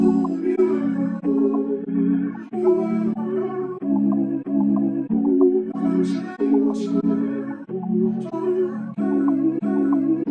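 A chopped soul vocal and music sample, sliced in FL Studio's Fruity Slicer, plays in short repeating segments, with abrupt cuts and stuttered repeats at regular intervals.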